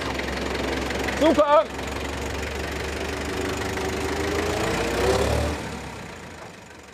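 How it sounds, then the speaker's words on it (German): A tractor engine idles and knocks steadily on a farm beside Harz highland cattle, its low rumble swelling slightly near the end before fading; a person briefly calls out over it. "Mit dem Trecker vorne weg,"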